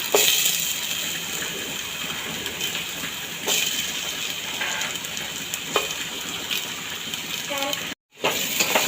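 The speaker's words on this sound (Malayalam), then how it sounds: "ആ പാത്രത്തിലേക്ക് വെളിച്ചെണ്ണ ഒഴിച്ച് സവാള ഇട്ട് കൊടുക്കാം" Onions frying in coconut oil in a pot on a stove for beef curry give a steady, close sizzle with occasional light clinks and stirring scrapes, broken briefly by a short gap of silence near the end.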